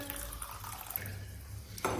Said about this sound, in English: I am taking 100 ml of beaker and I am adding water